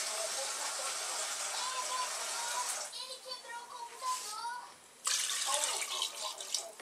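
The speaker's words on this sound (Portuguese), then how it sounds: "Botar água quantidade até cobrir a carne" Water pours from a tap into a pot to cover meat for a Brazilian stew, a bright continuous gushing splash that thins briefly midway and then surges again, close, with a voice talking over it.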